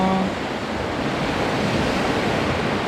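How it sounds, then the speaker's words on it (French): Ocean surf breaking on a beach in Guadeloupe: a steady, loud, close wash of waves with constant rushing hiss and no pauses, alone without voices. "Je dis souvent que ma chanson préférée c'est celle du bruit des vagues."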